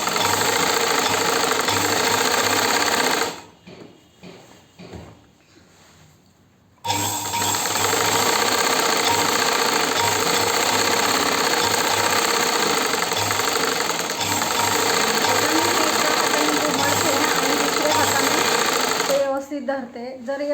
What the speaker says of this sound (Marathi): आपण खालच्या बाजूने त्याला पट्टी मारून घेतो.